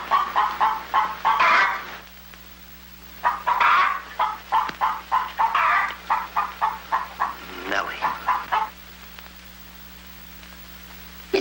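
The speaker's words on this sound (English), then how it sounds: "Lay, hen, lay." A hen clucks in rapid bursts of short, loud calls, pausing briefly and then continuing in a quick rhythmic series before falling quiet, with a low steady hum underneath.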